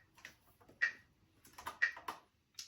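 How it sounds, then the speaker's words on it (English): A metronome set to 60 BPM ticks in sharp, isolated clicks, close and fairly quiet, with no voices. "So I'm going to put the metronome on at 60 BPM for this one."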